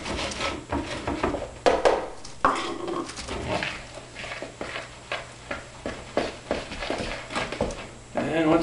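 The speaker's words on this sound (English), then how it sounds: "Mix it up with a fork until it starts making balls" A fork scraping and stirring dough in a bowl, with repeated rhythmic rubbing and clinking strokes close up, mixed with some background talking.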